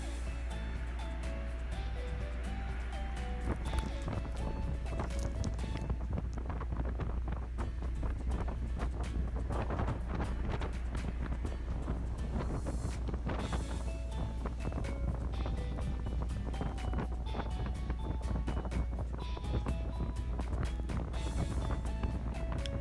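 Strong wind buffets the microphone on a small boat crossing open water near Nishio, Japan, a steady rushing roar with a low rumble underneath and faint hull and water noise throughout, no voices.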